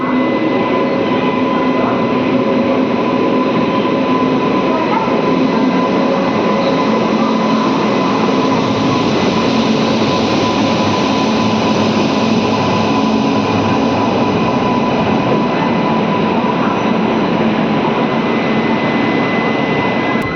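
Palnadu SF Express speeding from Guntur toward Vikarabad, heard from inside as a loud, unbroken roar of wheels and motors with a steady whine, constant for the whole stretch.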